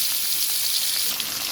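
Hilsa fish frying in hot mustard oil in a wok: a steady, loud, dense sizzle and crackle continuing without a break, with no voices.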